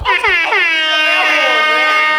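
A loud, blaring air horn blast with a bright, brassy tone, sustained for about two seconds.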